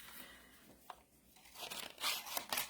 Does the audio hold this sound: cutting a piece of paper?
yes